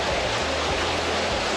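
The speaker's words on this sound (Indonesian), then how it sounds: "Ini air terjun yang terkenal itu yang namanya Seven Waterfall." Seven Waterfall in Taiwan roaring nearby, a loud, steady broadband rush of falling water that stays unchanged throughout, with a faint low rumble underneath.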